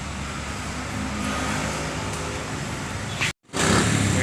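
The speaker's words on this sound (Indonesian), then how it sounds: "bus berangkat ya teman-teman ya" A Harapan Jaya intercity bus pulls away from a roadside ticket agent toward Surabaya, giving a loud, steady engine and road rumble throughout, broken by a brief dropout near the end.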